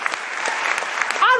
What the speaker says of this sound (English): Keep clapping as he's coming.